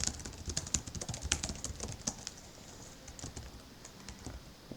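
Computer keyboard typing, with quick, light key clicks in a steady run that thins out toward the end, over a soft background hiss.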